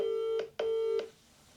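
Telephone dialing tones ring out while placing a call: three short, clear beeps in quick succession, fairly quiet and with no talking.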